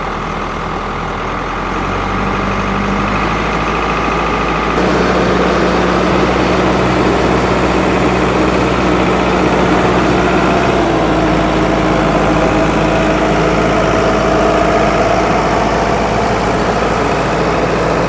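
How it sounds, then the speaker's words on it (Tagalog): An orchard pruner saw's engine runs steadily and loudly up close, a continuous droning hum that swells after a couple of seconds and then holds even throughout. "Papakita lang sa inyo yung saw na umaandar."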